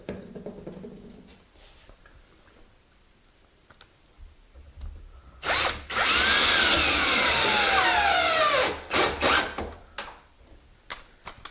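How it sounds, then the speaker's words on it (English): After some quiet clicking, a power drill fitted with a bit whines loudly for about three seconds with changing pitch while drilling a door, then stops with a few short bursts. "you can have a bit for your drill. Makes it go a little faster."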